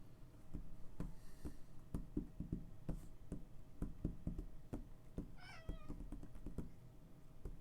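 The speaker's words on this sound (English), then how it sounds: "I have never seen a cat mimic another cat for attention so much." A house cat lets out one short meow for attention, fairly close, partway through a steady run of computer keyboard and mouse clicks that taps on throughout, with no talking.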